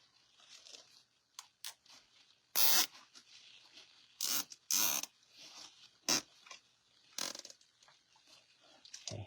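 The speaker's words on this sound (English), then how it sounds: "So I'm going to zip tie this completely shut." A zip tie is pulled shut around a grapevine wreath, giving a series of short, sharp ratcheting rasps in uneven bursts. The sounds are close and fairly quiet, with near silence between them.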